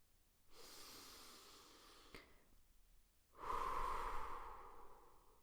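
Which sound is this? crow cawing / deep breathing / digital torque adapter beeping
deep breathing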